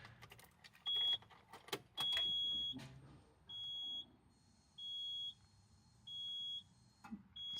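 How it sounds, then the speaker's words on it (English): A Subaru SVX sits before engine start while a repeating electronic tone sounds in steady on-off pulses, with a few sharp clicks and a faint low hum beneath. "So I can hear the fuel pump going"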